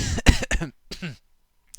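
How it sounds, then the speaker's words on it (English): A few short, close, harsh coughs in a quick burst, then a brief pause and one more cough, loud and alone in a quiet room. "I seem to have a slightly lingering cough, maybe."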